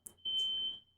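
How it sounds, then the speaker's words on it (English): A fire alarm beeps in the background, a single faint, thin, steady high-pitched tone lasting about half a second in an otherwise quiet room. "I apologize if you could hear a fire alarm in the background"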